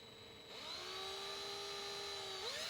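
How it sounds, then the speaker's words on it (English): A power drill spins up and bores a hole in a car's front spoiler with a steady, high whine. The sound holds even for about two seconds, then rises slightly in pitch at the end. "I'm just going to use my expertise and precision control to drill a beautiful hole right here."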